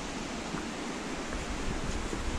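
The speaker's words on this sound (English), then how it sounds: "the waterfall's next to me over here. You can hear it." Thundering Falls on the Appalachian Trail in Vermont roars as a steady, dense wash of broadband rushing water, fairly quiet and unbroken for the whole stretch.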